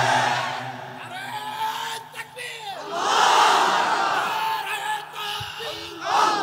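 A large crowd at a Bengali religious gathering roars a chant of Naraye Takbir, loud swelling group voices that rise and fall in waves.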